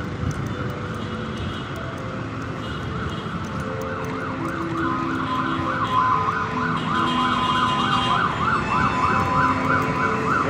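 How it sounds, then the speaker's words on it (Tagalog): An ambulance siren wails on a city street, starting distant and faint under traffic noise and growing louder and clearer as its rapid repeating warble approaches. "May ambulansya."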